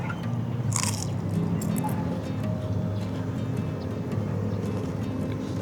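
Someone biting into a long, crunchy cheese stick at a street food stall, the crisp crunch and chewing close up over steady crowd and street noise.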